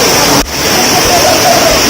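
A tall waterfall on Nias Island, Indonesia, gives a loud, steady broadband rush of falling water that fills the whole clip, with a brief dip near the start.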